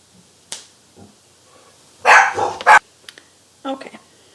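Dogs bark at home in a few short bursts, one cluster loud and close followed by a quieter pair, between stretches of near silence during a scar makeup session.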